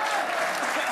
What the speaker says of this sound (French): Je voudrais vraiment qu'on applaudisse cette dame qui a perdu à cause de Gilles Verdez.